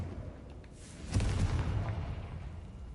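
A Confringo spell blast blows up a corpse in Hogwarts Legacy, landing as one sudden loud boom with a broad rumbling tail that fades slowly over a couple of seconds against a low ambient bed.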